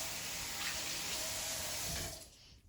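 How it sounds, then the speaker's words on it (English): Tap water runs steadily as a crock pot lid is rinsed in a kitchen sink, a close, full gush that continues for about two seconds before cutting off abruptly into near silence. "So let me rinse this lid off."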